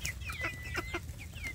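Free-range village chickens roaming outdoors, clucking in several short, rising calls spread across the moment, close and clear over a low rumbling background, with no talk.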